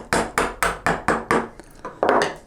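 Hammer blows drive a chisel into very hard wood to cut a dovetail, six crisp rhythmic knocks, a pause with lighter taps, then one more heavy strike.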